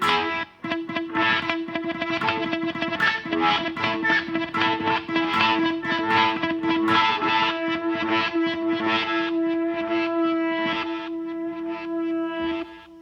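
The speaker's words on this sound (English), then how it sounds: "So this one is a reverse delay, and that's really cool. It takes your sound, and basically whatever you play, it reverses it" An electric guitar plays through the reverse delay of a Line 6 M13 effects unit, swelling backward-sounding notes over a sustained drone, dense and steady before fading at the end.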